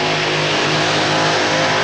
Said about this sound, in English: Modified all-aluminum Arias engine going after him right now.